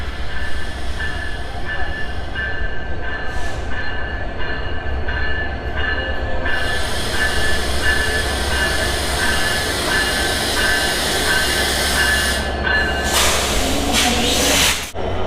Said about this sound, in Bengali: তো আমাদের রূপসী বাংলা এক্সপ্রেস কিন্তু প্ল্যাটফর্মে প্রবেশ করছে